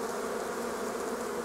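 Honeybees buzzing around hives at an apiary in late March, a dense continuous drone of many insects, steady and fairly loud with no voices over it.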